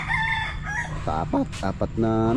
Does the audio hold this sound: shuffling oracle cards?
no